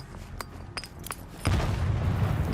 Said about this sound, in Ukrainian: Потрібно знайти вентиляційний колодязь та кинути туди гранату